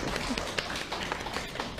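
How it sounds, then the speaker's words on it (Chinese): Livestream audience applause, a brief dense burst of clapping filling the whole moment at steady strength, with scattered sharper claps poking through. "来， 掌声 鼓励一下。"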